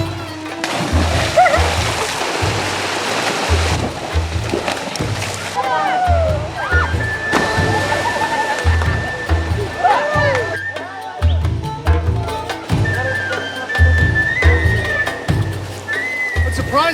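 Rhythmic splashing and sloshing in cold glacial canal water, repeated strokes close by with bursts of spray, while people talk over it at times.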